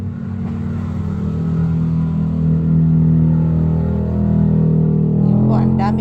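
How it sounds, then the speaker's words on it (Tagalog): Motorcycles and other road traffic pass along a street outside a shop, a continuous low engine rumble that swells and recedes as vehicles go by, with a rising rev toward the end. "ang daming mga motorsiklo na dumadaan"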